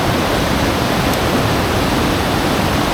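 Rapids rush around rocks at Ritson Force waterfall in the Lake District, a dense, loud, unbroken roar of fast water close by, with no voices.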